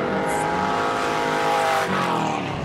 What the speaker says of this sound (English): I love hearing the engines.